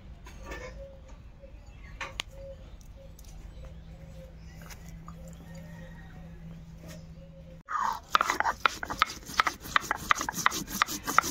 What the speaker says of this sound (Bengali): প্রথম আমি গোটা জিরে আর শুকনো লঙ্কা বেটে নিই।